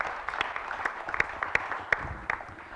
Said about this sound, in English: Round of applause for Paul for helping us out with this.